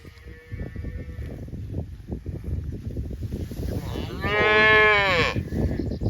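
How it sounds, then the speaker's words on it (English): A yearling heifer lets out one long, loud moo near the end, close by, after stretches of rustling and background noise. "This is a little yearling heifer."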